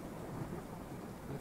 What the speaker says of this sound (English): That's lightning.